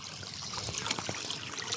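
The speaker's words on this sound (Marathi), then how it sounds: "हा पप्पांनी बांध फोडला आणि शेतातला पाणी बाहेर सोडलाय" Water spills out through a broken earthen embankment of a flooded rice paddy after heavy rain, a steady close trickling and splashing rush that runs without a break.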